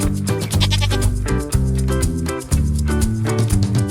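A goat bleats in a few quavering, wavering calls, loud and close, over about four seconds with no talking.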